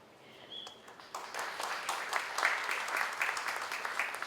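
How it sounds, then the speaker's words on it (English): A round of applause from the crowd at a business association meeting held at Duke's, swelling after a quiet first second into steady, moderately loud clapping that continues to the end. "keep the round of applause going for our friends here at Duke's"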